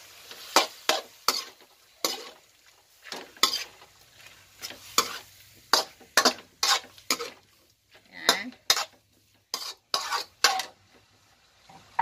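A spoon stirs squid ink into adobong pusit, tender squid simmering in a pan, with a rhythmic run of loud scrapes and clacks of utensil on metal over a light sizzle.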